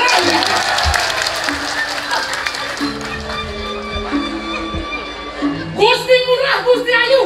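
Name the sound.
audience applause at a Balinese drama gong performance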